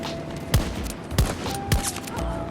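Three sharp, evenly spaced SVK rifle shots in a video game, loud and close, each a punchy crack with a short tail over a steady background hum.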